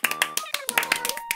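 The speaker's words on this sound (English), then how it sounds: "Everybody's clapping for me." Characters clapping at a ceremony in Animal Crossing: New Leaf, a quick run of bright, evenly spaced game claps with chirpy character voices mixed in.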